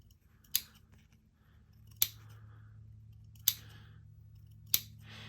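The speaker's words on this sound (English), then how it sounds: "This fabric is fairly tightly woven, so I can clip fairly close." Scissors clipping tightly woven, fine fabric close to the seam: four sharp, crisp snips spaced about a second and a half apart, near and isolated against a quiet background hum.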